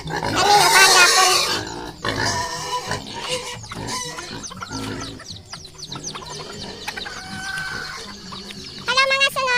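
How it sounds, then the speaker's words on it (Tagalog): Piglets being fed on a farm squeal loudly up close, with a strong burst of squealing at the start and later grunts and snorts, mixed with clucking chickens and short high squeals near the end. "Magpakaon na ta sa atong mga piglets."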